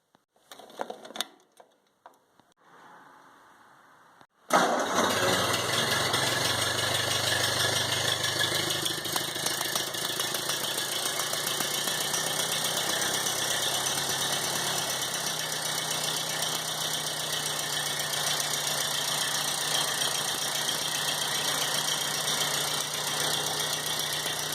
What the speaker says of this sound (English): So I just started the tractor, ran it.